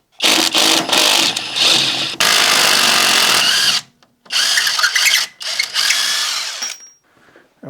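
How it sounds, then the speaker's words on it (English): A small, torquey power tool whirs loudly in long bursts while removing brake caliper bolts on a Citroen CX GTi, stopping and restarting a few times with short quiet gaps. "by using this small torquey thing, let's get the bolts out"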